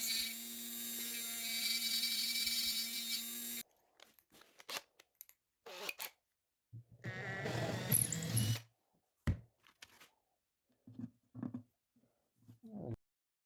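Dremel rotary tool cutting a string slot in a handmade acoustic guitar bridge: a steady high whine for several seconds, then a short second burst of grinding, with scattered handling clicks and knocks between, close by.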